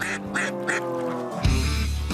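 A duck quacks in a quick series of three nasal quacks, loud and close, followed by a louder burst of noise at the end.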